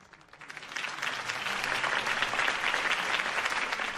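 A video game crowd breaks into loud, sustained applause that swells within the first second and keeps going steadily, dense clapping with no one speaking.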